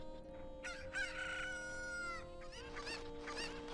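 Cucco chickens in Ocarina of Time crowing and clucking, several overlapping bird calls over a steady musical background hum, moderately loud and close.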